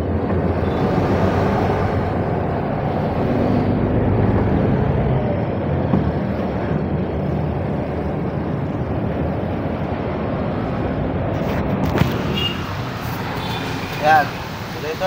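Steady road traffic rumble from a delivery truck driving through congested streets, a continuous broadband roar of engines and tires throughout, with a brief horn-like tone near the end and someone talking over it.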